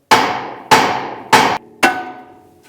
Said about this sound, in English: then some hammer action